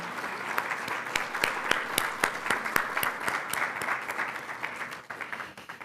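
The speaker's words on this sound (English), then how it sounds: "Please join me in a round of applause for Dr. Leroy Almendares" An audience at a conference event applauds steadily with many hands clapping together, sustained for several seconds before tapering off at the end, moderately loud and without speech over it.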